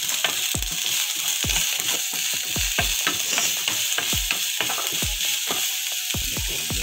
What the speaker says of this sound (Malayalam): അല്പം ഉപ്പും ചേർത്ത് നമുക്ക് ഒന്ന് വഴറ്റിയെടുക്കാം.